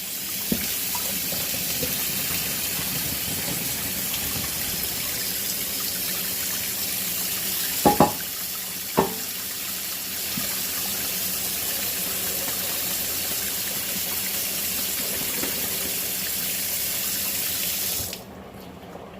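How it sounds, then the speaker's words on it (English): Cold tap water runs steadily into a kitchen sink while boiled potatoes are drained for mashed potatoes, a continuous close hiss with a couple of brief knocks midway before it cuts off near the end. "I like to run cold water in the back while I do this."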